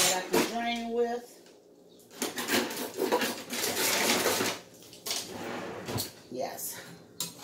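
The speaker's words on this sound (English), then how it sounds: "Let me look for my spoon that I can drain with." Someone rummaging through a kitchen drawer for a draining spoon, with clattering utensils and knocks in uneven bursts, close by, mixed with a speaking voice.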